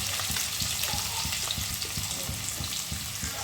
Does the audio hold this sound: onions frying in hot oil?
yes